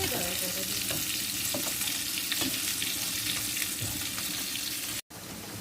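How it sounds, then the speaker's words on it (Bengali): Onions fry steadily in oil in a pan for a fish curry, a dense continuous sizzle with occasional light stirring clinks, close by, no voices. "পেঁয়াজের বেরেস্তা ভাজা হচ্ছে"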